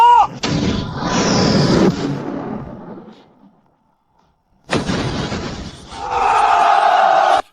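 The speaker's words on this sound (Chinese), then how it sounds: "陆基电磁轨道炮，给老子开火！" A land-based electromagnetic railgun fires as an animated drama effect: two massive booming blasts, each a loud, full-range roar lasting about two seconds with a rumbling tail, separated by a short silence, close and overwhelming with no talk over them.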